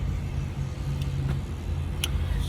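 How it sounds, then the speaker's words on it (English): Engines idling at a truck stop, heard from a parked car with a window open: a steady low rumble that holds for the whole stretch, with a few faint, brief higher clicks above it. No one speaks. "if you hear some combustion in the background, I'm at right in front of a truck stop, so that's what you hear."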